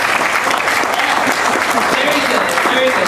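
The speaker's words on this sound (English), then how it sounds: "And clap if you love Ms. Turner and the UTOP program" Audience applause at a UNC Charlotte UTOP program event, a loud, continuous wash of many hands clapping with a faint murmur of voices mixed in.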